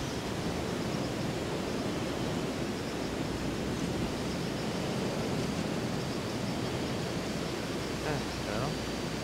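Steady rushing water from a waterfall in the golf video game The Golf Club 2, a dense, constant broadband roar running unbroken and fairly loud throughout, with no clear speech over it.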